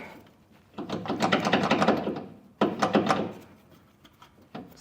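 A bolt being worked through a bracket while installing Air Lift LoadLifter 5000 Ultimate air helper springs on a 2016 Chevrolet, heard as two close bursts of rapid ratcheting clicks separated by a short pause.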